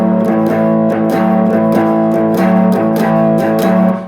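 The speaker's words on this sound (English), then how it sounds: "we're going to turn this into like a bluesy type boogie shuffle or something like that" Distorted electric guitar plays a bluesy boogie shuffle on power chords: a loud, steady run of chugging rhythmic hits, played alone.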